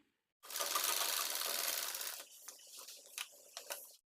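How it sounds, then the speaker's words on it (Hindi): A sewing machine runs in one loud continuous burst as it stitches the neckline of a small child's blouse, then slows into short, uneven bursts and clicks before stopping. "तो गले पर हम सिलाई लगाएंगे, तो यहाँ तक हमें सिलाई लगानी है"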